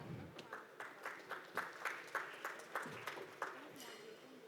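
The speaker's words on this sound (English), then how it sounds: "Can we have those claps, please?" Faint, sparse audience clapping for a panelist at a women-in-hospitality expo in Mumbai: a loose run of separate hand claps that never swells into full applause.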